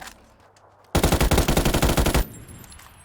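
In the PUBG video game, a rapid, loud burst of automatic gunfire, about a dozen evenly spaced shots in just over a second, follows quiet ambience and then cuts off.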